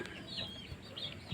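Chickens cluck softly in a farmyard, with short, scattered calls over steady low background noise.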